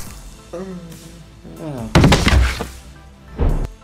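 A body thuds heavily onto the floor as an added sound effect in a short action film, a single close dull impact following spoken dialogue, with a softer knock shortly after.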